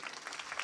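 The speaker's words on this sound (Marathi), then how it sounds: "टाळ्या वाजवा ना जोरदार." An audience at a Marathi kirtan claps, giving a brief, fairly faint burst of crowd applause.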